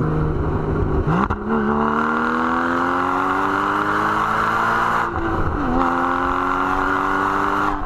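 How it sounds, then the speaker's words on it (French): A Porsche Cayman GT4 (981) with its central exhaust outlet pulls hard through the gears, a loud, close, rising engine note broken by two quick upshifts, with no talking over it. "avec donc toujours la sortie centrale qui chante merveilleusement bien"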